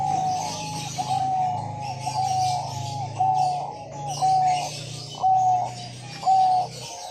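Diamond dove cooing at a bird farm, a soft repeated coo phrase sounding at a steady rhythm, close and clear over a low steady hum.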